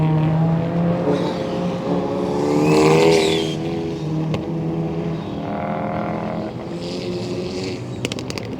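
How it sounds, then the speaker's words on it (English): Race cars running hot laps at Slush Motors in Colorado, engines revving loudly with rising and falling pitch as cars pass nearby, one surging pass mid-way, with a few sharp pops near the end. "we finished up watching a little bit of the hot laps"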